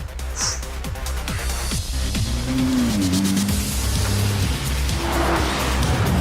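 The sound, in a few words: Nissan GT-R Nismo sports car driving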